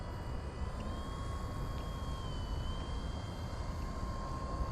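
A 1.3 m Arrows Bigfoot STOL radio-controlled plane flies overhead with a steady, fairly distant electric motor whine held over a constant broadband wind-like drone, with no talk.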